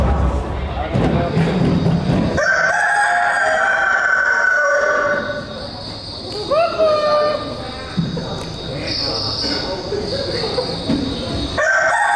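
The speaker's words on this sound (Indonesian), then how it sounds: "Tiba-tiba terdengar bunyi kentongan dan ayam-ayam pun mulai berkokok." Roosters crow repeatedly in an Indonesian stage drama performance, loud, drawn-out calls rising over background stage noise and a busy, echoing hall.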